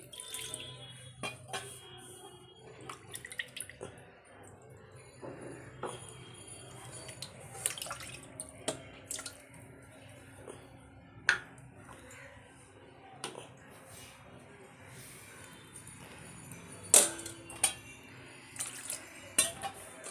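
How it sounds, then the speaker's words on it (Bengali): Water is poured to bathe a Shiva idol during a home Thursday puja, making a faint, soft trickle with scattered drips and splashes, close by but quiet and with no voices. "শিব ঠাকুরকে স্নান করাচ্ছি।"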